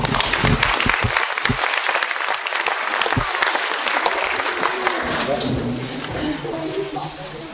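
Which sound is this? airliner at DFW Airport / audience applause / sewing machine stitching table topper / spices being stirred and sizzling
audience applause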